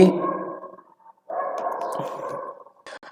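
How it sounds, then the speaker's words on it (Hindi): Dogs bark outside in a long, muffled run of barking that pauses briefly and resumes, heard clearly with nothing else over it. "ये क्या कुत्ते भौंक रहे हैं ना"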